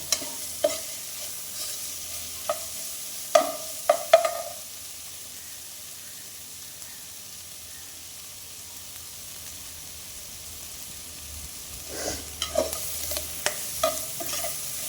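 Beef curry cooks in a pan while a spoon scrapes and knocks against the metal in bursts at the start and end, with a soft steady sizzle filling the quieter middle stretch.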